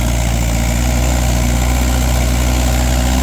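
A Mahindra 575 XP Plus tractor engine idles close by, a loud, unbroken low drone with even vibration and no change in pitch.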